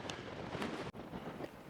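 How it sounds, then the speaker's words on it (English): Strong wind buffets the microphone on a barren desert highway during a bikepacking ride, a steady rough rumble with gusty swells and no talk. "It is sideways beard windy."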